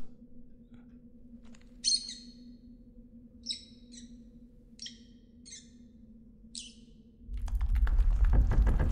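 A small bright red bird in a video game chirps in short, sharp high-pitched bursts, several scattered calls over a quiet ambient hum, followed by a rising louder rumble at the end.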